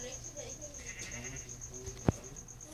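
Sheep in the video game Minecraft bleating faintly under someone talking, with a sharp click-like game sound near the end.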